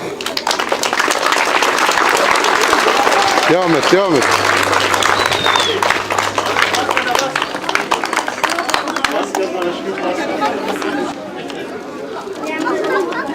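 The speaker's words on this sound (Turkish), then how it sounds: "Evet arkadaşlar alkış alalım." A crowd claps and chatters loudly under near talk and cheering voices, with the noise easing off in the last few seconds.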